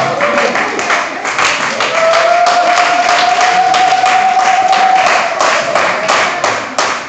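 Church congregation applauding during a sermon, steady dense clapping from a crowd at close range, with a sustained sung or shouted tone riding over the middle of it.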